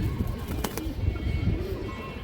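A female pigeon of a fancy domestic breed coos softly in a few low, rounded calls close by, with faint background noise and a brief sharper sound partway through.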